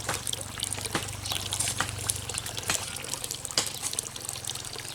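Water flows steadily into an azolla pit, a continuous trickling and pouring wash broken by occasional sharp splashes and clicks, heard fairly close.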